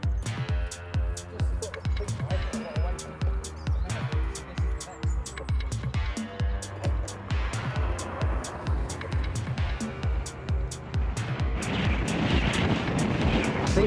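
A homemade soapbox racer rolls along on a run, its wheels producing a rapid rhythmic thumping and rumble with steady low noise throughout.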